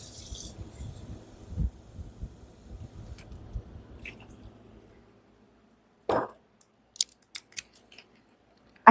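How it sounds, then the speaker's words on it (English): Scissors snip a stubborn pull tab on a container, heard as a few short sharp cuts and clicks near the end after a stretch of quieter handling noise. "I always have to get scissors."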